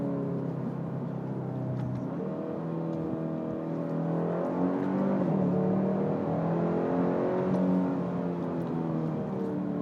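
A Hyundai Sonata N Line sedan accelerates with a steady, throaty engine drone whose pitch climbs and shifts. It stays at an even, moderate loudness throughout, with no talking.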